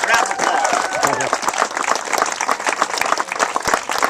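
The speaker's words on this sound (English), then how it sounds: "So let's give Carl a round of applause." A crowd at a track and field record board unveiling breaks into loud, sustained applause for a coach. Dense clapping fills the whole moment, with voices and cheers mixed in.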